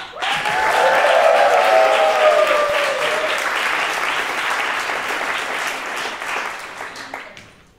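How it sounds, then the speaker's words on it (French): A theatre audience at a live evening show applauds loudly and steadily for nearly eight seconds, with a few cheers or whoops on top early on, before the clapping tapers off. "vous demande d'applaudir très fort Salvia"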